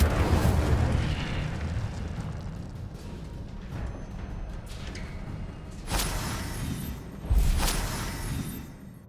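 A fire spell cast in the video game Hogwarts Legacy, heard as a steady roaring rumble with two sharper whooshing bursts near the end, loud and alone with no talk.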